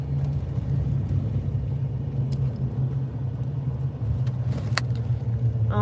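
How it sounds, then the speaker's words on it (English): Steady low road rumble heard from inside a car stuck in traffic, with a constant engine drone and small rattles and clicks from the cabin, and no one speaking. "Oh my gosh, this traffic."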